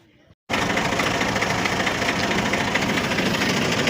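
A tractor engine in a village on a cold morning catches abruptly after a short quiet moment, then runs at a steady, loud, close idle with a dense rumbling chug.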